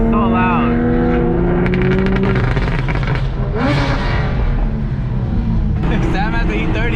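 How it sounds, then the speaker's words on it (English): A loud Porsche engine roars and revs up close, its pitch climbing and falling, while people talk over the noise. "that Porsche is so loud."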